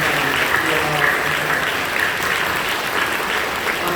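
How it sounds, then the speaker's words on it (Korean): A church congregation at Incheon Full Gospel Church claps warmly to welcome first-time visitors, a loud, dense, continuous round of applause with a voice faintly audible beneath it. "여러분들 박수로 뜨겁게 환영해주시기 바랍니다."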